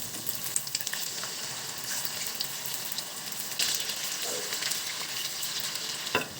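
Tofu (tokwa) fries in cooking oil in a pan, a dense, even close-up sizzle with scattered spatters and a couple of light utensil clicks, no talking.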